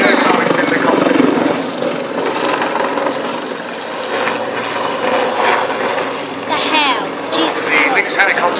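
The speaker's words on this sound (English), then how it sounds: "The Lynx helicopter has of course been the mainstay of operations of the Army Air Corps for the last 30 years" A Lynx helicopter of the Army Air Corps flies past with a loud, continuous rotor and engine roar that fades and swells, while someone narrates throughout.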